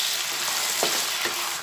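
Small onions and tomatoes frying together in a pan for an anchovy curry, a dense continuous sizzle close by with a couple of brief stirring scrapes.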